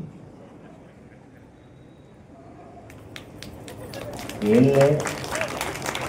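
Applause and clapping from an audience at a public talk in Kadapa, starting faint and swelling into dense, loud clapping in the last few seconds, with a voice over it.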